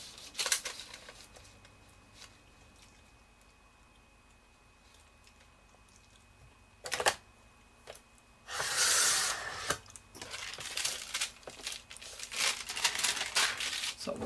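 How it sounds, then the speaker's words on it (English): Glassine paper being cut to size for making bags: quiet crinkling and handling at first, then a sharp crisp rustle, followed by a longer burst of crackling paper and scissor snips close by. "Then I'm going to flip it, and I'm going to cut it at 8 inches."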